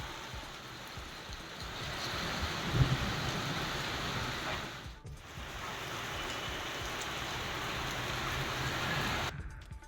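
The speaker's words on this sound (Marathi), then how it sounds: "अचानक वादळी वाऱ्यासह जोरदार पाऊस झाला" Heavy unseasonal rain driven by strong gusty wind makes a steady, dense roar that dips briefly midway and then returns at the same intensity. No voices are heard.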